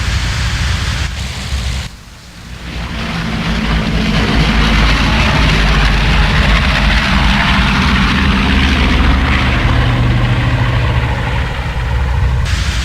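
Twin-engine C-47 Skytrain propeller transport takes off in the IL-2 flight sim, a loud, steady, dense engine roar that dips briefly, then swells and holds at full power, close and continuous.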